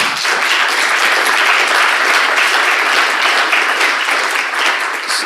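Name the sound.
audience applause for Marian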